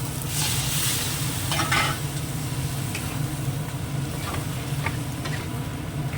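Curry sizzling and frying in a pan with turmeric and ginger paste, steady sizzle under occasional scraping stirs, close and continuous without talk.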